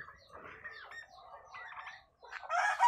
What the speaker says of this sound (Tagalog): Yan yung aking mga alagang Rhode Island Red, tsaka mga pabo.